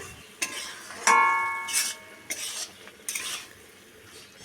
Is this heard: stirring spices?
yes